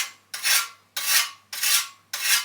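The tip of a new, cheap plastering trowel is rounded off, giving four steady, evenly spaced rasping strokes of metal being filed or rubbed smooth, close and without talk.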